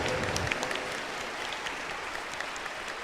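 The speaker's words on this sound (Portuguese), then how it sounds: "Pode dar uma salva de palmas." A congregation at a Catholic Mass gives a round of applause, a steady, moderately distant clatter of many hands lasting the whole stretch without talk.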